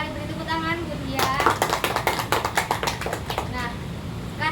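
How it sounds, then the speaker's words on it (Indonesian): A small group claps for a class in a teaching session, a quick run of sharp, distinct handclaps lasting a few seconds, with voices talking just before and after. "Beri tepuk tangan, Bunda."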